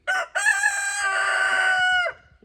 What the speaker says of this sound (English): my rooster Ataru